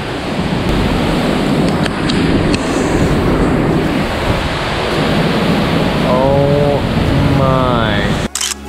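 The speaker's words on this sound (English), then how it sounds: "but we made it to the second waterfall." Skógafoss waterfall in Iceland roars as a loud, constant rushing wash, heard up close with heavy wind buffeting the microphone. Brief tonal sounds come in near the end.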